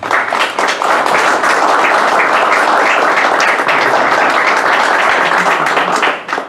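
A lecture audience gives warm applause for the architect Alejandro Cravioto Lebrija as he comes to speak. The clapping is loud and dense and lasts throughout, with no speech.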